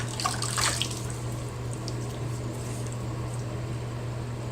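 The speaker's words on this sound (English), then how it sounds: "I rinse my face a little bit in the water the soap water." Water splashes and trickles in a basin as a face is rinsed with soapy water, with a brief louder splash at the start and then a steady wash under a low hum.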